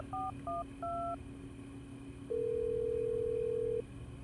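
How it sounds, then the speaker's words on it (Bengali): Telephone keypad tones as a number is dialed, a few short beeps followed by one longer steady ringing tone, clean and isolated in a dramatized audio story. "শান্ত মনে জিশানকে কল করল তানিয়া।"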